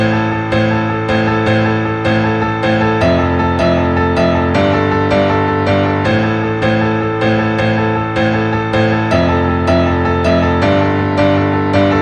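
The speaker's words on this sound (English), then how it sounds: "Impress your friends with this simple but awesome piano melody." A steady piano tune with a repeating low bass line and a bright melody on top, played evenly and alone at a moderate volume.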